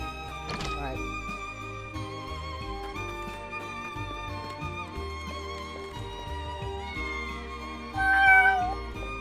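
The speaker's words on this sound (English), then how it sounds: "Goddamn adorable cats!" Cats in the Triangle Strategy game meow in a short series of calls over soft background music, with a louder, brighter meow near the end.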